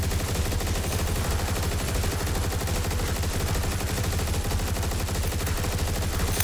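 A rapid-fire gun in the video game Turbo Overkill roars in a loud, unbroken stream of shots, dense and relentless throughout with no pauses.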